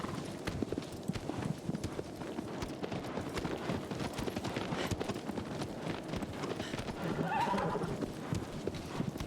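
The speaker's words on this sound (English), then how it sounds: "They just made the horse automatically come to you in this one." A horse galloping toward the player in Shadow of the Colossus on PS4, a continuous rapid clip-clop of hooves with a whinny near the end, moderately loud over a faint background.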